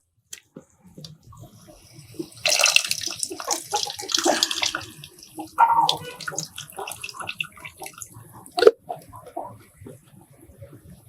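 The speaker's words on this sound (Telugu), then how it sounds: "చింతపండు నానబెట్టుకున్నాము. ఆ జ్యూస్ ఇప్పుడు దీంట్లో పోసుకుందాం." Tamarind juice soaked and squeezed by hand is poured into a prawn curry, giving a close splashing, trickling pour that swells and fades in uneven bursts, ending with a few drips.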